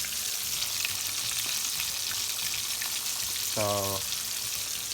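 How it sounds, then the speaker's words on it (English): Chicken wings deep frying in a pot of hot oil give a steady, close, hissing sizzle throughout, with a brief spoken word near the end. "Do not overcrowd the pot because the oil is gonna dip in temperature."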